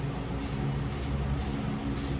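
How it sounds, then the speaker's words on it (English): Loctite spray adhesive is applied to foam in four short hissing bursts at a steady rhythm of about one every half second, close and crisp over a faint background hum. "I'm going to go ahead and spray the foam"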